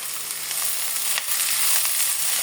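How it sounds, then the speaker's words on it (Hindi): Onions sizzle and fry in hot oil in a pan while cooking a bhindi qeema dish, a steady close crackling hiss with faint stirring ticks, no talking. "अब इस मौके पे मैं इसमें बाकी का प्याज डालूंगी।"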